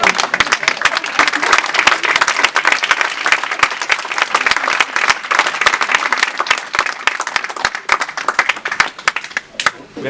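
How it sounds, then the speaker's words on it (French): Loud, dense applause from an audience at the launch of the Cité des Outre-Mer, many hands clapping in a fast, continuous patter that thins slightly near the end. "on peut applaudir"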